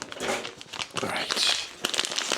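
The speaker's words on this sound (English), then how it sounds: "let's get this packet open." Plastic packet of grated mozzarella cheese crinkling and tearing open, close and fairly loud, with busy rustling bursts throughout.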